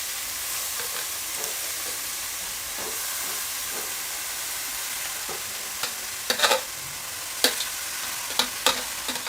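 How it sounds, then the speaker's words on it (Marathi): Grated carrot and beetroot frying in melted ghee over a low gas flame, giving a steady soft sizzle with a few sharp stirring scrapes and clinks toward the end. "आपल्याला गाजर जे आहे ते तुपामध्ये छान मस्त असं फ्राय करून घ्यायचं आहे"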